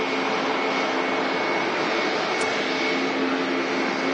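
Helvetic Airways Embraer E195-E2 jet at Manchester Airport, a steady loud engine howl with a sustained whine over broad roar, continuous and without talk.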